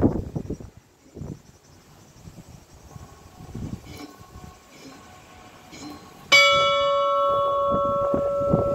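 A church bell at the Ermitage de Saint-Jean-du-Puy strikes loudly partway through, its ringing tone sustaining after earlier faint chimes and murmuring voices.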